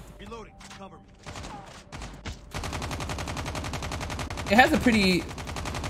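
Rapid automatic gunfire from a buffed gun in COD Mobile, a fast steady stream of shots lasting several seconds, with someone speaking briefly before the shooting starts.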